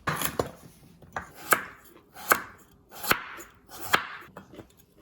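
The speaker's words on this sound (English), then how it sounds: "Next, I'm gonna slice this carrots." Knife slicing carrots on a cutting board while preparing Korean japchae glass noodles, giving about a dozen crisp, close chops in an uneven rhythm, with no talking.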